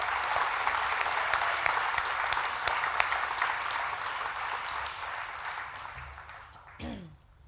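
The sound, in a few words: applause for the graduating class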